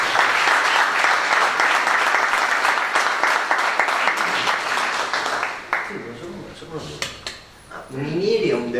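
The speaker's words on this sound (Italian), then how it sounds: "l'applauso lo facciamo a loro" Audience applause for the members of an association at a book presentation in Casapesenna, dense steady clapping that thins out and stops, followed by someone speaking.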